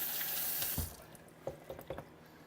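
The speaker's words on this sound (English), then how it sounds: "Little rinse." Yellow and orange bell peppers rinsed briefly under a kitchen tap: a steady rush of running water for under a second, then soft splashes and drips as the peppers are turned by hand.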